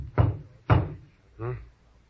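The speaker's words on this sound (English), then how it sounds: "There was a knock on the door." Knocking on a door in a radio drama, two firm close knocks followed by a softer third thud, spaced about half a second apart, with nothing else heard between them.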